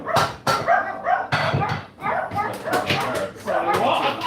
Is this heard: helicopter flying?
no